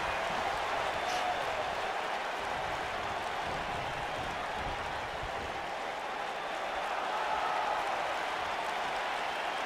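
Arena crowd in WWE 2K19 at a Survivor Series pay-per-view match, a constant roaring wash of cheering with a hiss like rain, steady and loud throughout with no distinct voices.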